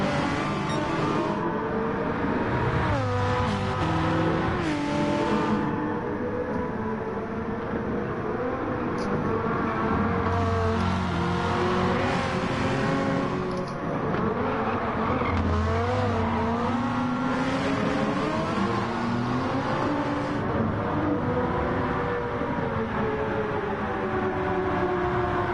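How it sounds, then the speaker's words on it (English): Corvette race car in Gran Turismo 7 roaring down a straight during a 90s vintage Le Mans endurance race, its engine loud and sustained, with rising gear pulls and brief shifts over a long continuous run. "Going faster down the straight. That Corvette rapid in a straight line."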